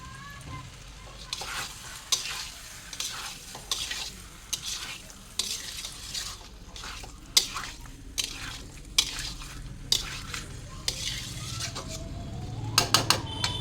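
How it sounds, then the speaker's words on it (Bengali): Spice masala sizzling in a spoonful of ghee, a soft continuous fry broken by repeated scraping stirs and light clinks of a spoon against the pan, close and unaccompanied by voices. "দেখুন, মশলাটা আমার কষানো হয়ে গেছে। এর মধ্যে আমি 1 চামচের মতো ঘি দিয়ে দিলাম।"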